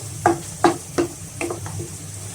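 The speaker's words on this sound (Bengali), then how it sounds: "একটু নেড়ে চেড়ে ভাজি করে নিচ্ছি।" Chicken stir-frying with ginger and garlic in a pan: a steady sizzle broken by four or five spaced spatula scrapes and knocks, close and moderately loud, with no voices.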